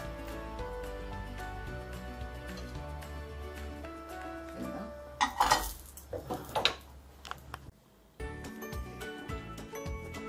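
Carrots are lifted out of a frying pan with a brief cluster of metallic clinks and scrapes midway, over a steady musical background.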